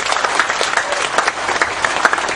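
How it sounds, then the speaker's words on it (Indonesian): Loud, lively audience applause with a gathered crowd, dense clapping with distinct sharp claps popping out, continuous throughout. "Tepuk tangan untuk Pak Nevi."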